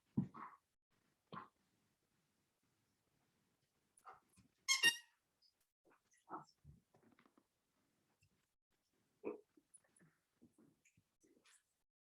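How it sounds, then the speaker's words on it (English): A dog plays with a squeaky toy indoors, giving scattered short squeaks and soft thumps, one sharp squeal near the middle, with long quiet gaps between them. "I have a dog with a squeaky dog toy."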